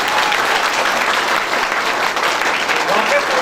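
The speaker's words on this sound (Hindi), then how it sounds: "एक बार जोरदार ताली" Hall audience at a live show bursts into loud, sustained applause, dense clapping from a large crowd filling the space evenly throughout.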